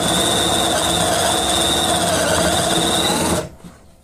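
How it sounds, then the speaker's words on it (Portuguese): A drill in a homemade guide jig bores a hinge hole into a wooden cabinet door with a loud, steady whining squeal that holds for about three seconds, then cuts off abruptly into near quiet. "Então a gente vai furando aos poucos mesmo."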